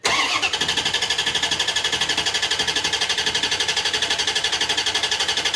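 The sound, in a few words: C4 Corvette engine cranking without starting, OptiSpark disconnected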